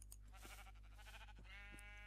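Sheep bleating in a Minecraft-style video game, a wavering, buzzy call repeated a few times over a steady low game hum, close and fairly clear with no one talking.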